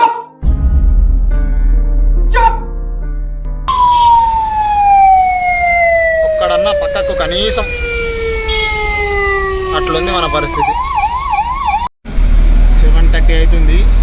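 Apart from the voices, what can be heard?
ambulance siren stuck in heavy traffic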